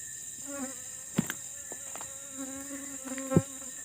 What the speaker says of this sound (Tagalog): Ayan, may bubuyog guys.